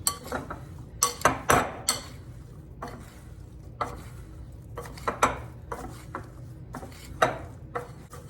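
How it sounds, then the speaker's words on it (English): Cloves, salt and dessert mix stirred in a bowl for an apple dessert, with irregular clinks and scrapes of a utensil against the bowl over a quiet background. "So we'll stir this all up."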